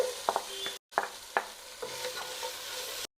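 Pieces of fried chicken, cut into two or three, being stir-fried in a pan for restaurant-style chicken fried rice; a close, steady frying hiss with several sharp scraping stirs of the spatula, brief gaps between them, and no talking.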